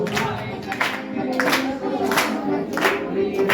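Hands clap in rhythm along with a devotional Shyam bhajan, regular sharp claps about every half second from a small group nearby, laid over a singing voice and accompaniment.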